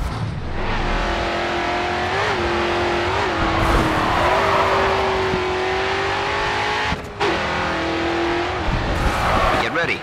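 Race car engine roars loudly in GRID 2, revving and shifting through a turn while the tyres squeal as the back end slides out; a voice talks over the engine throughout, and a brief dip comes near the end.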